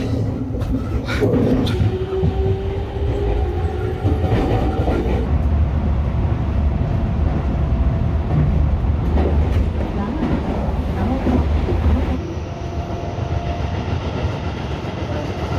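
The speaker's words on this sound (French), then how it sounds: "on est dans le métro de Tokyo" Loud, steady rumble of a Tokyo subway train in motion, heard from inside, with rattling and a high whine as it runs, then easing slightly near the end.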